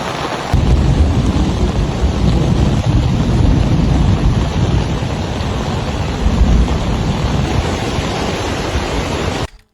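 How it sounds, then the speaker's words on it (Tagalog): A swollen, flooded river on Catanduanes rushes past. The water gives off a loud, steady, broadband roar that runs on without a break and then cuts off abruptly at the end. "Sobrang lapad na ng ilog. Sobrang, ng baha. Sobrang ragasan ng tubig."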